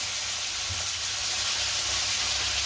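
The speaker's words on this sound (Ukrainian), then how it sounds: "сковородочка шкварчить" A frying pan sizzles close by during home cooking of fresh pork, giving a steady, continuous hiss with a faint low hum beneath and no talking.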